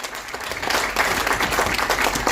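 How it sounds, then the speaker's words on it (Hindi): Applause from an audience at an awards event, a steady wash of many hands clapping that swells after a brief start and continues evenly throughout. "इसके लिए सबसे पहले इनके लिए एक ताली बजाइए"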